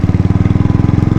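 Royal Enfield motorcycle engine thumping at a steady, close, loud idle, its rapid even pulses repeating without a break on a ride through rural roads between Goalpara and Bongaigaon.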